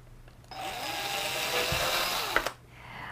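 A hole being made in the side of a plastic film canister with a tool, a steady whirring grind lasting about two seconds, close by, ending in a sharp knock, no speech.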